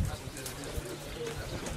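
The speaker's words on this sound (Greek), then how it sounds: "Αυτά είναι τα περιστέρια, τα Κυρόβια, τα καθαρά." Kyros-breed pigeons coo softly at close range, their low burbling calls running beneath a man's nearby speech.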